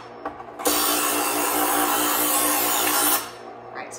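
A kitchen knife drawn along a sharpener from the base by the bolster, making one long, steady grinding rasp of about two and a half seconds that starts and stops abruptly.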